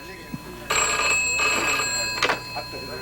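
A telephone rings in an office, a sustained ringing burst lasting over a second with a second short ring, heard over room noise and faint background voices.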